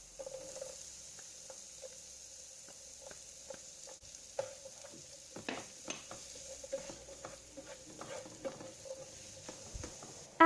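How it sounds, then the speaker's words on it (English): Diced onion sautéing in 3 to 4 tablespoons of melted butter in a pan, a soft steady sizzle broken by scattered crackles and the occasional scrape or stir, fairly quiet and close with no talking. "heat 3 to 4 tablespoons of butter. Sauté diced onion."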